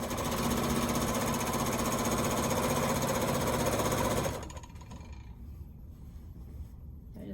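A sewing machine stitches down the side of a quilt block, a steady loud mechanical whir running for about four seconds before stopping abruptly, leaving a quiet room.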